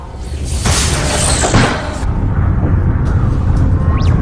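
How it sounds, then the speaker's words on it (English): A loud sci-fi explosion inside a spaceship airlock: a heavy booming blast with a rushing whoosh that fades into a low rumbling roar, followed by faint electronic tones. "Some sort of explosion in the airlock."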